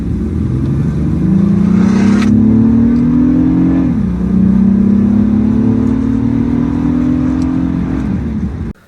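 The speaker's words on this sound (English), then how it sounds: "It's got a really awesome sounding exhaust, just normal straight from the factory exhaust" A 2007-2008 Acura TL Type S with its stock factory exhaust pulls hard through one gear, shifts with a brief dip, then climbs again in a loud, close, smooth exhaust note.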